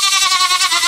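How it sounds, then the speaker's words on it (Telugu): A goat lets out one loud, close, wavering bleat lasting about a second, among a herd of 22 goats for sale at a small-ruminant market in Mahabubnagar, Telangana. "చూపియా మేకలు."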